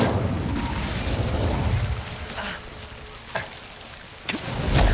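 An Incendio fire spell cast in Hogwarts Legacy bursts out as a loud crackling, roaring whoosh of flame that fades to a softer hiss, followed by a few sharp magical snaps.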